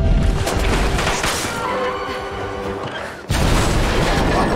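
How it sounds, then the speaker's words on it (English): A grenade launcher blast in a superhero spy TV drama, a loud sustained booming roar with crashing debris that cuts off abruptly and then resumes as a dense rumbling. "Oh no, grenade launcher."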